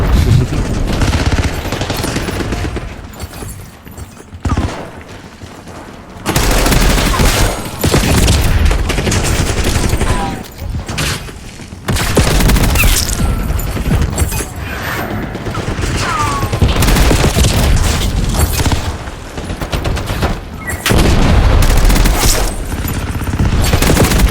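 M4 assault rifle fire in Call of Duty Black Ops 6 Warzone: loud, dense automatic bursts that repeat for the whole stretch, separated by short pauses, with booming hits and game clatter mixed in.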